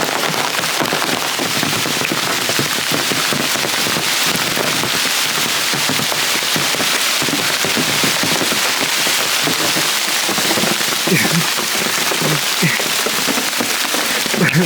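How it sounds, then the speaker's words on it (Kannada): Heavy monsoon rain in the Malnad hill region of Karnataka roars steadily and loudly, a dense continuous hiss of drops pounding a surface with no pauses. "ಏನು ಮಳೆ ಗುರು ಇವತ್ತು"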